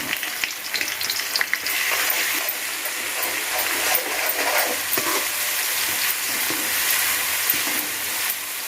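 Onions fry in a pan with a ground paste of ginger, garlic, cinnamon, clove, cardamom and fennel for mutton keema semiya kichadi, a steady loud sizzle with stirring scrapes throughout and no voices.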